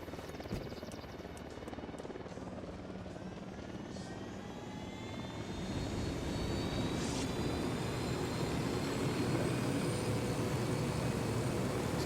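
A helicopter in Ghost Recon Wildlands taking off and flying, its rotor and engine noise building from a whine into a loud steady drone that fills the whole stretch.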